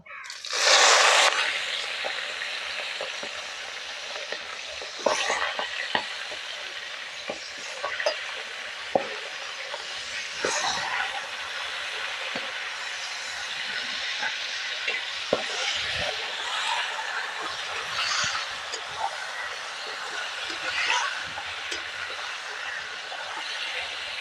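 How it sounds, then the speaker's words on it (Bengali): A steady, bright sizzle of catla fish heads frying in hot oil, with occasional soft clicks and scrapes from stirring. "মাছের মাথাটা একটু ভালো করে ভাজতে হবে"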